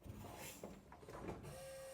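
An electric vacuum pump for the brake booster on a 1955 car runs steadily after the brake pedal is pressed, a faint continuous mechanical whir with a slight hum, heard alone without talk.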